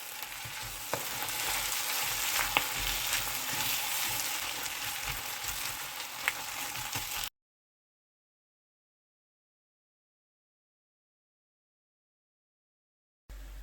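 Pork fry sautéed with garam masala sizzles steadily in the pan with a few sharp stirring clinks for about seven seconds, then cuts to silence before a brief return at the end.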